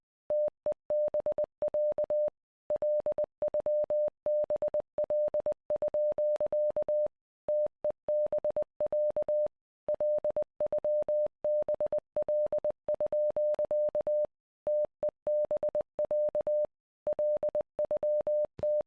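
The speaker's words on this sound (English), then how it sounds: "The transmission consists of a repeated phrase in Morse code" A steady single-pitched radio tone keys on and off in Morse code in the video game Z.A.T.O., repeating a phrase as a long, even run of short and long beeps, clear and alone.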